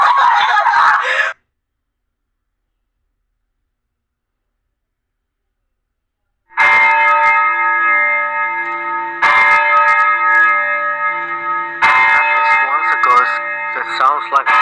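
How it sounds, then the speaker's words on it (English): A church bell rings in loud, sustained, resonant strikes that follow a short burst of sound and several seconds of silence, each toll ringing on into the next. "That sounds like a church bell."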